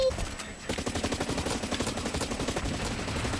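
Rapid gunfire from the online shooter game Blacklight Retribution, loud and continuous bursts of automatic fire filling the clip with dense, rhythmic shots and game effects.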